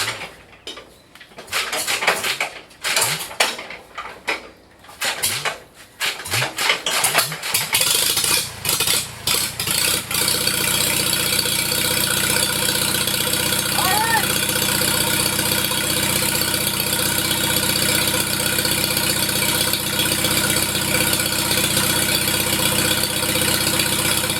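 A McCormick Deering M tractor engine, freshly back from valve work, sputters and catches in uneven bursts for several seconds, then settles into a steady, loud running drone.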